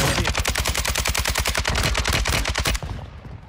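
Rapid automatic gunfire from a shootout in the video game Warzone 2, a dense, steady burst of many close, loud shots in quick rhythm for about three seconds before cutting off into a quieter tail.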